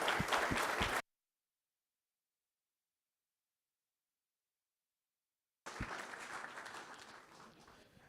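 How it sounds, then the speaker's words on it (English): An audience applauding after a prize lecture, a burst of many hands clapping that cuts to silence for several seconds, then resumes as a strong, dense round of applause that gradually thins out. "let's give her a round of applause"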